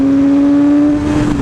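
Engine of a car on the road, heard from a Yamaha R6 motorcycle ride, a steady loud drone with a strong low tone that holds throughout, no voices.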